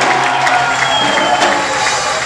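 A church congregation applauds and cheers with sustained, loud, dense clapping and crowd noise that fills the whole moment without a break.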